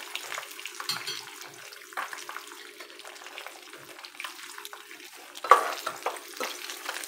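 An egg frying in a pan, with a faint, steady crackle and sizzle throughout, a few soft scrapes, and one louder clatter near the end, close by with no talk.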